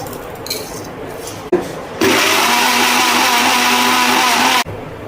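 A mixer grinder blends spicy Indian kara chutney. After a short jolt it runs with a loud, steady whir for about two and a half seconds, then cuts off abruptly.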